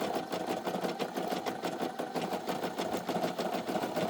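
A Brother SE1900 embroidery machine stitches a patch with a quiet, rapid, even whirring and ticking of the needle, running steadily up close with no talk.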